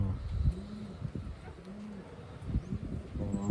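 Several Taiwan-imported pigeons coo close by in low, rounded repeated calls, with scattered chirps and cage rustling in the background.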